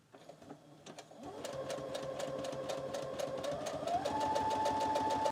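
A sewing machine running a decorative zigzag stitch across paper, building into a fast, even rhythmic whirr with regular needle clicks, close and steady, with no speech.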